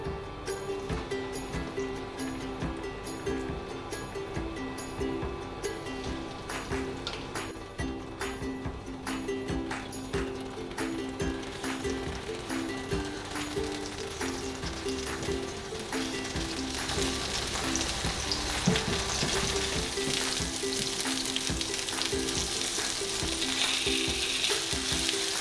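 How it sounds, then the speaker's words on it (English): Coated tofu pieces pan-fry in two tablespoons of vegetable oil over medium-high heat, a steady dense sizzle and crackle that holds throughout and grows slightly brighter and louder toward the end, with no talking. "Let's pan fry them."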